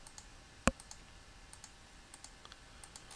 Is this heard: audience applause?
no